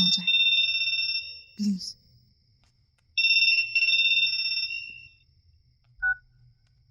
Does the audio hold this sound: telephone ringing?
yes